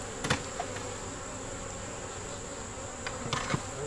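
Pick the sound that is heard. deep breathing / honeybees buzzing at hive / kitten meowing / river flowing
honeybees buzzing at hive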